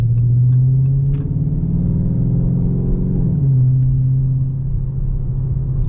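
Modified 5.7L V8 Dodge Charger with aftermarket exhaust idling nearby, a deep steady rumble that rises briefly as the throttle is blipped, then settles back to a loud low burble.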